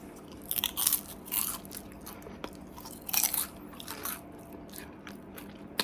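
Crispy roasted Brussels sprouts with balsamic drizzle being bitten and chewed up close, several sharp crunches in irregular bursts with no talking.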